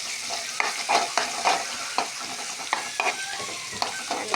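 Fish curry masala frying in oil while being stirred, rhythmic scraping strokes about twice a second over a continuous close sizzle.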